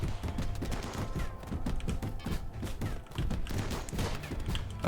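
Gun turrets in the video game Rimworld fire at raiders in a rapid, continuous volley of close, sharp shots and thuds that carries on for a few seconds.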